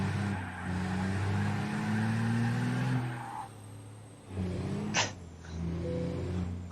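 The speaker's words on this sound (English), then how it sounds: "that wheel screech sound is actually the front axle on the trailer scraping the ground" Harsh screeching scrape from a trailer's front axle dragging along the ground in a trucking video game, heard under a steady loud engine drone, with a sharp squeal burst near the end.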